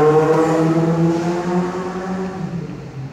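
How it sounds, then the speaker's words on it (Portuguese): A motorcycle passing by on a street, its engine note loud at first with a slight pitch shift and then fading away over about three seconds. "Desculpa aí, foi a moto que passou."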